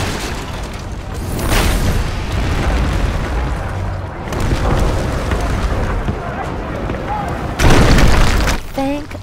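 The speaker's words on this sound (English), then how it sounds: "We did not sign up for artillery fire" Artillery explosions in the video game Sacred 3 burst in heavy booms, with loud blasts near the start and a sharper one near the end, over a rumbling battlefield roar while a voice speaks.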